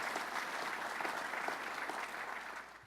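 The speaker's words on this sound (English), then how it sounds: "Let's give him a round of applause." A room full of people applauds a public official at a governor's county appearance, a steady, somewhat distant spread of clapping at low level, no talk, cutting off abruptly at the end.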